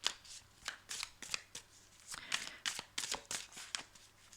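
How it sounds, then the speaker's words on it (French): A deck of cards being shuffled during a card reading, a series of quick riffling bursts in a soft, close, irregular rhythm with no talk. "Je vais recouvrir avec l'autre partie du jeu, qui sont les nombres."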